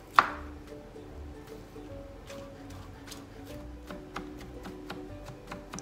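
A knife finely chops boiled chicken breast on a board with a steady run of quick, faint, evenly spaced taps, after one louder knock at the start.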